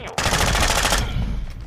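Assault rifle gunfire in Call of Duty Modern Warfare II on PS5 rattles out as one loud, rapid automatic burst lasting about a second, then fades into a lingering tail.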